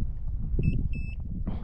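Two short electronic beeps from a fish finder sound in quick succession over a low background rumble, followed by a brief hiss.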